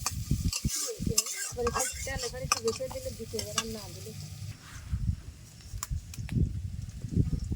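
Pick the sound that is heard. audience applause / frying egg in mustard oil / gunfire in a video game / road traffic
frying egg in mustard oil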